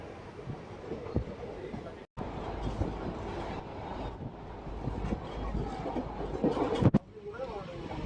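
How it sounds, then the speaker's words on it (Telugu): Guntakal–Tirupati passenger train rolling along near Mudigubba station, giving a steady close rumble with wind buffeting and a brief dropout partway through. "ముదిగుబ్బకు మన ట్రైన్ చేరుకుంది."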